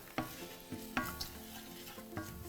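A spoon scrapes through turmeric in a sizzling pan at a summer barbecue cookery demo. A few distinct stirring strokes sound over a soft, steady sizzle, close and fairly quiet.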